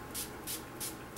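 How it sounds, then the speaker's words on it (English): Makeup setting spray mists out in four short, even bursts, each a soft airy hiss from a pump bottle at close range, with faint background hum between puffs. "Once you get this all done, just stand back, give yourself a spray all over,"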